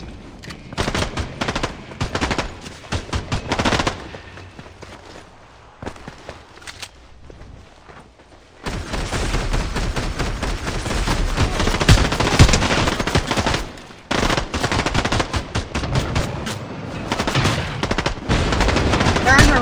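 Gunfire in the Fortnite video game: rapid automatic bursts and repeated shots, loud and close, with a short quieter stretch before heavy continuous firing resumes.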